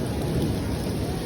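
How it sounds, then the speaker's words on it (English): Heavy rain pours down with rolling thunder during a storm near Kennedy Space Center, a dense, loud, continuous wash of noise with no voices. "now it's raining like crazy. Raining cats and dogs. And lightning."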